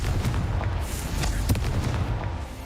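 Incendio and Confringo spells burst in quick succession in Hogwarts Legacy, loud fiery booms and crackling blasts close up with no speech.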